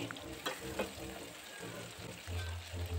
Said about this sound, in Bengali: এবার তেলের মধ্যে এখানে জিরে ফোড়ন দিলাম আর একটা টমেটো ছোটো ছোটো টুকরো করে দিয়ে দিলাম।